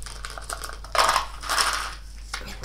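Loose sweets are poured into a container in a traditional British sweet shop, making close, quiet rattling and clattering bursts, a short shake followed by a longer cascade, with no talking over it.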